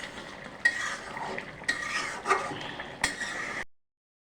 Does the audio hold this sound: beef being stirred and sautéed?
yes